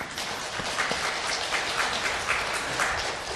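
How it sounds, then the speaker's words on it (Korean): A church congregation applauds as the choir comes forward, an even, moderately faint patter of clapping throughout. "우리 나올 때 박수 한번 칩시다"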